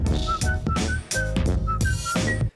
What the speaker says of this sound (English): a little whistle on it